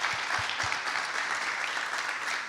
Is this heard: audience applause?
yes